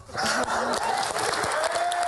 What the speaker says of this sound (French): Et tout le monde applaudit, bien évidemment.